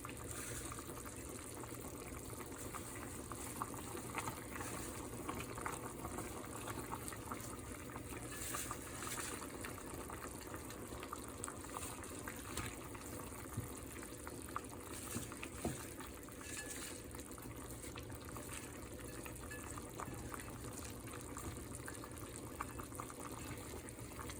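A pot of salmon broth with tomatoes and watercress bubbles at a low, steady boil, a faint continuous bubbling hiss with no pauses.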